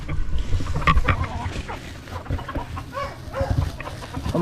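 Pet chickens clucking at close range during feeding, with several short bursts scattered over a steady low rumble of farmyard background noise.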